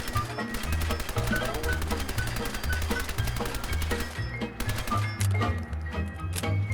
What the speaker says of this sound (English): Here's the live fire test with what would have been probably the standard issue PPSh at the time of World War II.